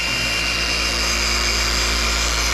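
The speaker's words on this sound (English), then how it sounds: "Make sure your polisher pad is nice and level." A car polisher runs on the paint of a 1962 Nova show car, giving a loud, steady, high-pitched motor whir with no breaks, close up and alone.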